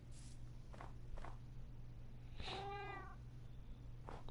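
Cats in the video game Minecraft Bedrock Edition on PS4 meowing, several short mews followed by a longer rising and falling meow, sounding close and moderately loud over a steady low game hum.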